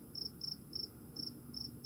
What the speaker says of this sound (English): you can hear the insects, um, the crickets chirping